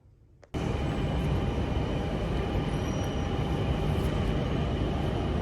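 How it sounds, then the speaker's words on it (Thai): After a brief quiet moment, a fast express train with a rocket-shaped nose suddenly roars past nearby, a loud, steady rushing rumble that continues to the end. "เห็นไหม รถไฟ รถด่วนด้วยพี่น้อง รถแบบหัวจรวด"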